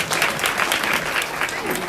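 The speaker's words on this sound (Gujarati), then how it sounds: "જોરદાર તાળી ઋતુરાજભાઈ માટે ભાઈ." Steady applause from an audience at a primary school event in Juna Samadhiya, cheering a student called up by name; continuous clapping fills the whole stretch with a voice over it.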